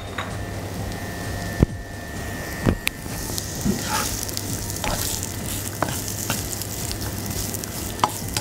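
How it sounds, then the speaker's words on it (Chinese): Onions and tri-colour bell peppers stir-frying in hot oil in a home kitchen, a steady sizzle with occasional clanks of a spatula against the pan, moderately close. "落少少油落去，準備爆香啲洋葱同埋啲三色椒啊！"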